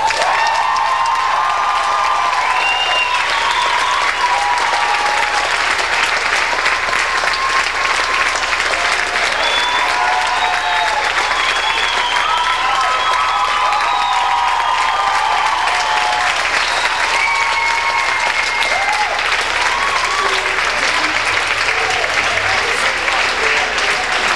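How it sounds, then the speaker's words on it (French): An audience at a 1995 graduating students' show at Louis-Riel gives Catherine Boulet a long, loud, sustained ovation, continuous clapping laced with cheers and high whoops from the crowd. "il y a une personne, entre autres, qui mérite beaucoup d'applaudissements. C'est Catherine Boulet."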